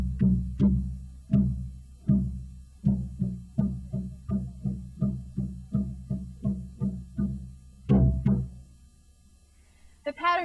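A hand drum beats a steady, repeating rhythmic pattern of deep hits with occasional accented strikes, then pauses before a final stroke.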